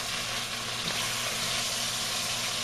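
Chicken with finely chopped garlic and cumin frying in a pan for Peruvian chicken, a steady, close, dense sizzle with no pauses and no talking.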